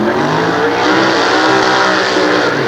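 An old-timer drag racing car at a 1993 nostalgia drag meet at Sears Point gives a brief, loud, dense engine roar that holds steady throughout.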